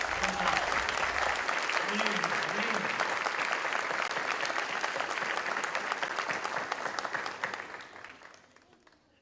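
Sustained audience applause at a Christmas Advent celebration gathering, dense steady clapping that gradually thins and fades near the end, with a brief spoken word over it.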